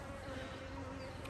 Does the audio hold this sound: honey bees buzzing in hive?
yes